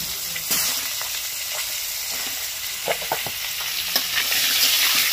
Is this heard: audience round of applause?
no